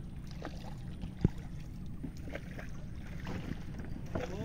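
A boat on a river in the Sundarbans, with a low, steady rush of water and wind and a few faint knocks, heard quietly without talk.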